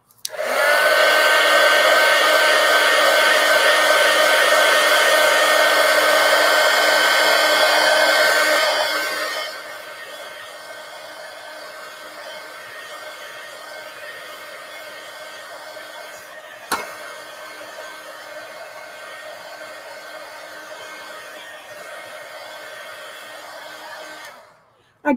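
A hair dryer blows on wet red paint on a tulip painting, running loud and steady for about nine seconds, then dropping to a quieter, lower setting that continues until it clicks off near the end.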